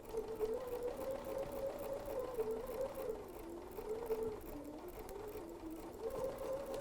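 A sewing machine runs steadily, its motor humming and rising and falling slightly in pitch as it stitches elastic onto a fabric face mask, heard alone and fairly quietly.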